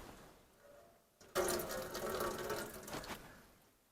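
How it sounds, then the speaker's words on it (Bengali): Water being squeezed by hand out of grated potato drips and splashes into a bowl in a short burst of wet trickling, close and fairly quiet, after a brief near-silent start. "এবারে জলটাকে ভালো করে চিপে নিতে হবে।"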